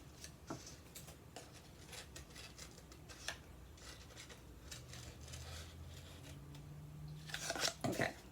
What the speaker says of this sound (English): we're only going to cut along the sides of the belly part here